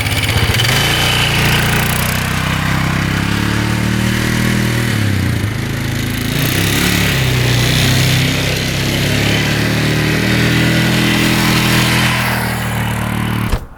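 An old ATV that sat unused for about 20 years now runs and drives, its engine loud, close and steady for the whole stretch, the pitch rising and falling as it revs and moves, with no talk.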